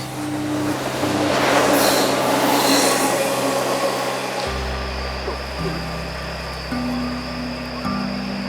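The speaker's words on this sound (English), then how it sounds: "now that these two trains have passed by" Two trains rumble past nearby with a broad roaring wash that gradually eases, leaving a low steady hum and tonal drones.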